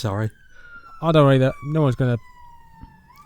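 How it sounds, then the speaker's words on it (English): Emergency sirens drone outdoors as a steady, faint, slowly falling wail behind a man's close, clear talk, which comes in short bursts with pauses. "Excuse the sirens in the background,"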